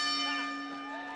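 Boxing ring bell at the end of a round in a professional bout at Mohegan Sun, a single sustained metallic ring decaying slowly over faint arena background.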